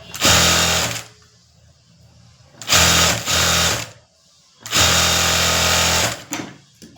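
Sewing machine stitching the border trim onto a lined blouse, running in three loud bursts of about a second or more each, separated by short pauses.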